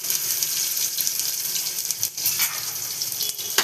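Onion hisses in hot oil with mustard seeds and curry leaves for a cornmeal khichdi, a continuous close sizzle with small crackles and pops and no voices over it.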